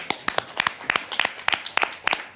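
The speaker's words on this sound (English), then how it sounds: "you guys deserve a round of applause" Scattered hand claps from a small group of people in a parliamentary committee meeting, a brief uneven round of about a dozen sharp claps, fairly close.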